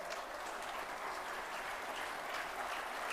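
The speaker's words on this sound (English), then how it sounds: "The intensity of clapping is going down." Faint, steady audience clapping at a heavy haul seminar, a continuous distant patter of many hands with no voices over it.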